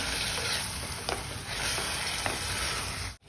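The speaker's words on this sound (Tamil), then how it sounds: "ஒரு 10 நிமிஷம் நம்ம இந்த சிக்கனை நல்லா வதக்கி எடுத்துக்கலாங்க" Marinated chicken for biryani sautéing in a pan, a steady loud sizzle with scraping stirs, ending in a brief dropout.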